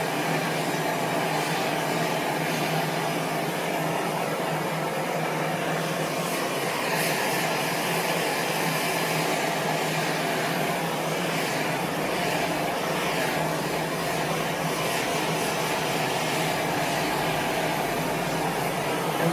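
MAP gas torch roars steadily and closely while heating a vinyl record to bend it, a constant broadband rushing flame noise running unbroken throughout.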